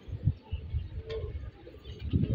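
Pigeons, kept fighting-breed birds, coo in low repeated bursts close by, with a steady murmur of background noise between calls.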